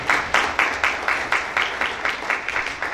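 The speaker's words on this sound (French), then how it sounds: "Applaudissez pour nous." Steady rhythmic clapping from a small church congregation at an anniversary service, about four claps per second, fairly close and even throughout.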